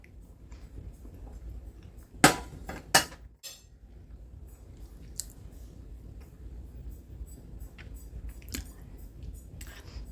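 Eating an enchilada-style burrito topped with sour cream, with soft close chewing, a couple of sharp clinks of cutlery near the start and faint ticks in an otherwise quiet room.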